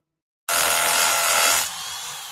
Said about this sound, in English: Man, that was easy. Bulldog Rotary Hammer!